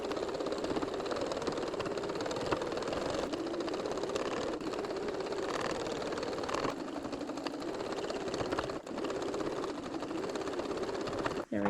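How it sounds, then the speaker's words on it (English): Sewing machine top stitching a quarter-inch seam around the edge of a small quilted fabric pumpkin with a lining on the back, running as a steady, continuous close hum with no pauses. "I'm just going to top stitch about 1/4 inch seam allowance all the way around the edge"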